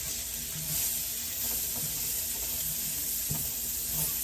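Onion sautés in a pan, giving a soft, continuous sizzle and hiss with a few quiet scraping touches.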